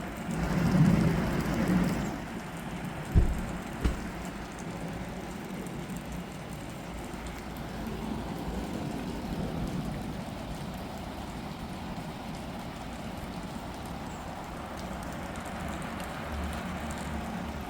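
Steady rain falls outside, a broad even hiss running throughout with a brief louder patch at the start and a couple of sharp knocks early on.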